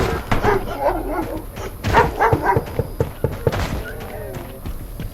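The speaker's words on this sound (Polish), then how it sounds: "czy ja słyszałem szczekanie psa ducha?" A ghost dog barks in a paranormal horror video game, a few short bursts of barking and whimpering at moderate distance, with some game noise and brief voice sounds around them.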